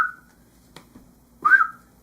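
A person whistles an imitation of a mountain quail's call: two short, clear whistled notes about a second and a half apart, the second louder and slightly wavering, close and quiet in between.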